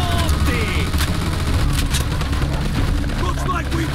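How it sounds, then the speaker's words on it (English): Sustained, dense machine gun fire with rapid overlapping bursts and booming impacts in a World War II-era combat scene from the Mafia II Definitive Edition video game, loud and continuous throughout. "Machine gun! Watch it!"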